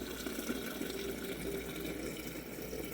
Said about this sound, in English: After that, I add the nice cold water to get that infusion process started.